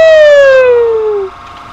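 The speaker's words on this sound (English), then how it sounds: "This is the siren" A police car siren in GTA V sounds alone and close: a single loud wail sweeping steadily downward and cutting off after about a second.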